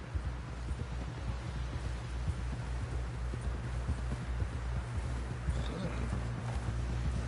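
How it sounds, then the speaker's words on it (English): Horse hooves clip-clop steadily in Red Dead Redemption 2, a continuous rhythmic trot under low rumbling ambience with faint voices in the background. "Someone help John down off this horse"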